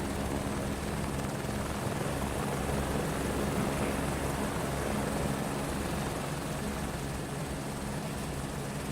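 Helicopter engine and rotor in Microsoft Flight Simulator 2024, heard standing right beside the aircraft: a loud, constant, dense roar with a steady low throb, no voices over it.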